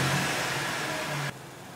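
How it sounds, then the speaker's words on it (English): A car engine running rough with its EGR valve opened, a steady uneven hum that cuts off suddenly near the end of the short stretch. "Hopefully you guys are gonna be able to hear the engine. There, struggling pretty hard."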